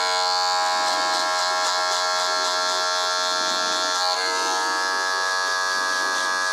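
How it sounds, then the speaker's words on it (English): Electric hair clippers buzz steadily and loudly through a fade haircut on South East Asian hair, a continuous close whine that shifts pitch slightly near the end as the blade moves. "there's no harm of the clipper going like that"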